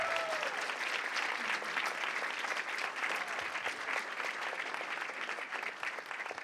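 Sustained audience applause fills an employee recognition awards and pin ceremony hall, dense, steady clapping holding at an even level from start to finish with no voices standing out.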